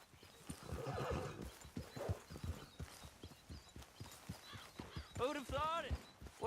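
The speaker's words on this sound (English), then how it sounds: "Grab your horse and let's go." Horse hooves clip-clop and a horse whinnies in the video game Red Dead Redemption 2, with hoofbeats under talking voices and a clear neigh near the end.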